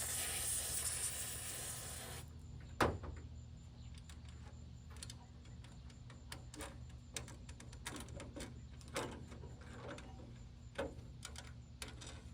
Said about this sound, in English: hopefully some carb cleaner can get this free